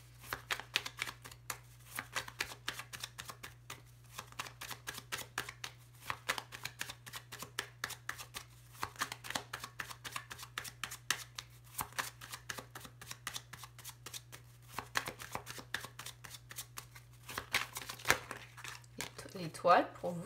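Tarot cards are shuffled close up in quick irregular riffling bursts, faint crisp slaps and crinkles repeating throughout over a low steady hum, with no voices.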